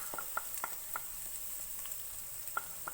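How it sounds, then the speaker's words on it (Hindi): Chopped onions frying in oil in a pan over a medium flame give a faint, steady sizzle with scattered small pops and crackles, with no voices over it. "इसको फ्राई करेंगे।"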